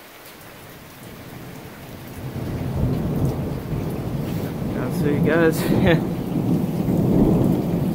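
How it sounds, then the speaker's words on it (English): Severe thunderstorm with heavy rain pounding steadily and thunder rumbling, building louder over the clip, while a person speaks briefly over the downpour. "There's just a lot of lightning, some rain, a little bit of wind."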